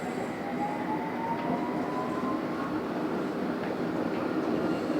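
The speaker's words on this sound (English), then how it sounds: "This is a Metropolitan line train to Aldgate." A London Underground Metropolitan line train to Aldgate runs with a steady loud rumble throughout, a faint rising wheel whine riding above the continuous roar.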